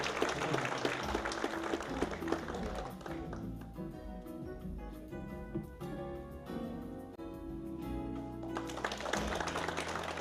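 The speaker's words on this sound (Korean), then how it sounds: "박수 부탁드립니다" An audience at a television station's 50th anniversary ceremony claps steadily throughout, the applause fairly quiet and even, with faint background music underneath.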